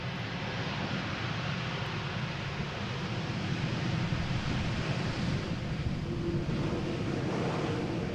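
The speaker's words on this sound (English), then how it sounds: "But first up, this Pegasus Air A320neo" A Pegasus Air Airbus A320neo airliner at Amsterdam Schiphol Airport produces a steady, broad jet roar that stays even and moderately distant throughout.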